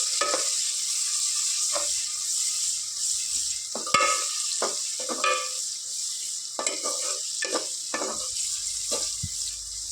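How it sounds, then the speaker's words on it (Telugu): Onions and green chillies fry in a pan with steady broadband sizzling, punctuated by repeated scraping stirs of a spoon against the pan; no voices. "వీటిని మంచిగా ఫ్రై చేసుకుందాం ఆనియన్స్ పచ్చిమిర్చి ఫ్రై చేసుకుందాం"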